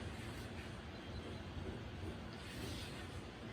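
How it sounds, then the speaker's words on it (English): A faint, steady fan buzz hums in the background, even and unbroken, with no one talking. "If you hear a fan or a buzzing in the background"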